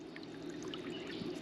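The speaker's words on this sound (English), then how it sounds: "I actually have a little fountain going in there to kind of keep the water from getting stagnant." A small fountain trickling water in a homemade hot tub at an RV homestead, a faint continuous pour and dribble heard close with no voices.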